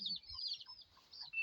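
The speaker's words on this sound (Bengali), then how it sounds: "এগুলো তোমাদের গো মুরগির ছানাগুলো?" Young chicken chicks peep in high, thin chirps, a near continuous cluster of faint calls close by with a few low rustles beneath.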